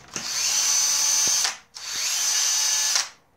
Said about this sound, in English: Drill is still running.